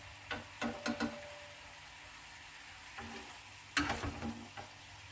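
Cherry syrup simmers and reduces in a pan, giving a faint low bubbling broken by a few clusters of spoon scrapes and taps as it is stirred.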